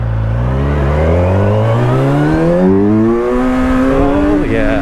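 A Kawasaki Versys 1100S motorcycle accelerating hard with the front wheel lifting, its loud close engine note climbing steadily in pitch through the gears.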